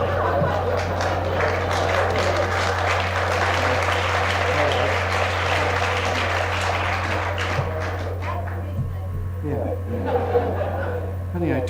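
An audience laughs and claps together, with chuckles mixed into a spread of applause that thins out after about eight seconds, all over a steady low electrical hum.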